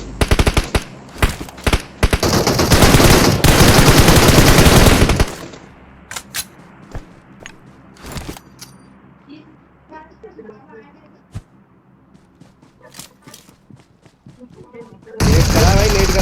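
Rapid automatic M416 rifle fire in the video game PUBG, loud sustained bursts at the start and again at the end, with scattered single shots and sharp cracks in between while players talk over it.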